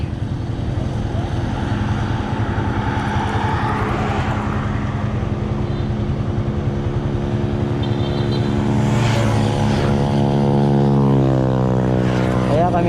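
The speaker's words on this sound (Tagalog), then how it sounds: "madami pang sasakyan." Dense road traffic roars past without pause, a loud, continuous engine drone with a couple of vehicles sweeping close by near the middle and toward the end.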